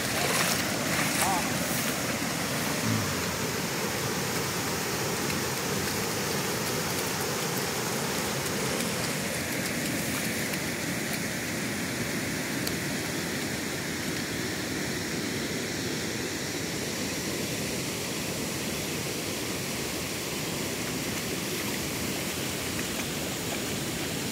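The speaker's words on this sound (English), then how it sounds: "There we are, we're flowing over the road." Floodwater pours across a road at the end of a rural lane in Boyd County, Nebraska, a steady broad rushing wash heard up close for the whole stretch with no pauses.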